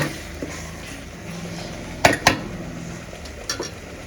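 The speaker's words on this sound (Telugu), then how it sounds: "ఇదిగో ఇప్పుడు బాగా కలిపేసుకోవాలా" A spoon stirs Rayalaseema-style chicken kushka in a cooking pot, with a few sharp metal clinks and scrapes against the pot over a faint, low simmer, and no talking.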